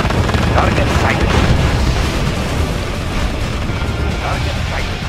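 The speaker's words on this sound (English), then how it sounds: "Warning. Nuclear missile launched." Constant heavy booms and rumbling blasts from a nuclear missile launch and explosions in the Red Alert 2 video game, loud and dense throughout, mixed with game voice announcements.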